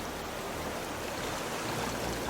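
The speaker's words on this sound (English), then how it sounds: "You take salt water and you pour it in" Salt water poured from a bottle into a cup makes a steady, dense rushing splash that runs without a break, close and moderately loud.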